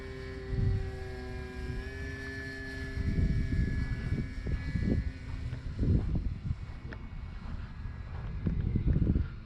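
A Cermark Fantasy Flyer RC airplane flies overhead, its small engine giving a steady high whine that shifts pitch as it passes, under gusts of wind buffeting the microphone.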